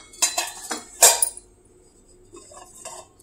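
Antique brass vessels and lids from a Chettinad collection clink and clatter as they are handled, a few sharp metallic knocks close by, followed by softer scattered taps.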